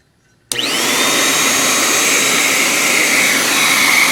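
After a moment of quiet, a Meiyou cordless stick vacuum cleaner switches on and settles into a steady, high-pitched whirring hum that holds without change.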